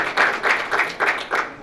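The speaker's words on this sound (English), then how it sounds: "I think the person who needs the most applause right now is Jim Moran" Audience applause at a congressional event, a dense burst of clapping with a few distinct swells, close and fairly loud with no one speaking over it.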